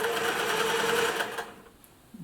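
A 1950s Singer 401A sewing machine runs loud and close with a steady whirring hum for over a second, then stops, leaving quiet with a faint click.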